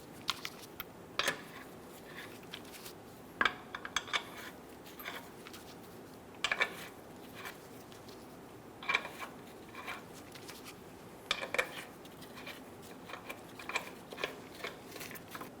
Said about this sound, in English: Install the wheel. Get the lug nuts started by hand.